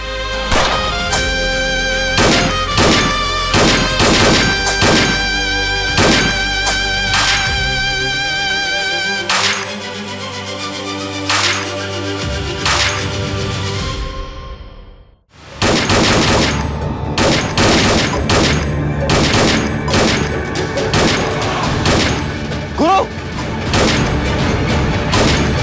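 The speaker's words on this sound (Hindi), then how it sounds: "अंधाधुंध गोली चलाओ बे।" Rapid indiscriminate gunfire in a televised drama scene, a dense volley of loud sharp shots in irregular bursts, broken by a brief lull, with a musical score sustained underneath.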